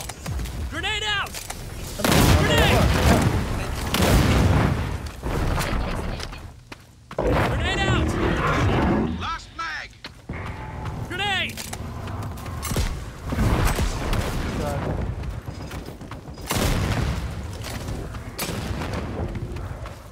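Grenade blast and rapid gunfire in the co-op dinosaur shooter Second Extinction: repeated heavy booms and crackling shots over twenty seconds, mixed under loud, excited shouting from players.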